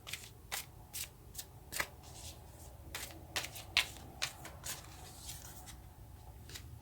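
A deck of tarot cards shuffled by hand, with sharp separate flicks and riffles at an uneven pace over a faint low hum, close and fairly quiet, with no voices.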